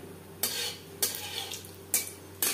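Black cumin seeds fry in hot mustard oil in a pan for a hilsa curry. Four distinct bursts of spatula scraping and stirring cut through a faint, steady sizzle, with no talking.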